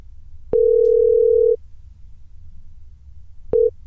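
A telephone dial tone while a call to a lawyer connects on a broadcast: one steady tone lasting about a second, then silence, then a second, shorter burst of the same tone, loud and clean with no talk.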